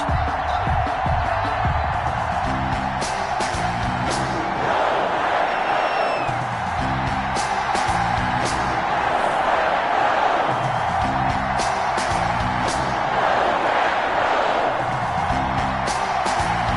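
A stadium crowd in an EA Sports NFL game roars steadily before a Minnesota Vikings versus Green Bay Packers matchup, a dense, continuous wash of cheering with a faint repeating musical pattern underneath.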